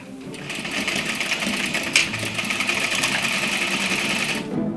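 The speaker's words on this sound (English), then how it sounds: "I'm gonna stitch even closer in" A sewing machine runs steadily and close up for nearly five seconds, a fairly loud continuous whir stitching gathering trim for 18th-century ruching about 1/8 inch from the edge at a medium-long stitch length.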